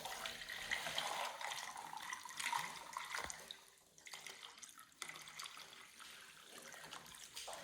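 Water trickling steadily into a jug during a water catchment, a medium flow with a continuous splashing hiss that dips briefly partway through before resuming.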